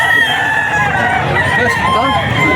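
Hennie-feathered rooster at a busy pet market, loud, close clucking and crowing calls filling the whole brief stretch amid background chatter.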